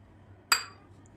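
A single bright clink of a utensil against a metal pot as a cup of gram flour goes in, one short sharp ring that fades quickly over a faint low background hum.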